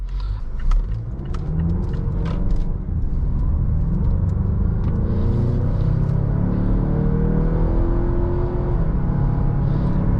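A 2020 Mazda CX-9 Signature SUV's engine pulls steadily under acceleration, a continuous close rumble and whir rising in pitch with gear changes along the way, with no talking.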